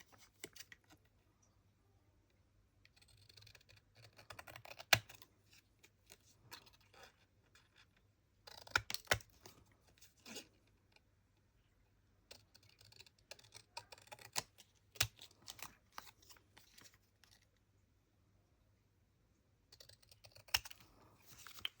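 Dry clicks and snips of scissors cutting through playing cards, coming in short bursts separated by quiet pauses, close up and fairly faint.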